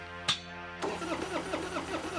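A cartoon car's engine cranks and sputters as it tries to start, a sharp click followed by a steady rough mechanical chugging that never catches, heard alone at moderate volume.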